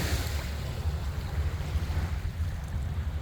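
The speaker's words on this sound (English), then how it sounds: "The wave just came up." Ocean surf washes up on a Florida shelling beach, a continuous low rushing roar of water with wind buffeting the microphone.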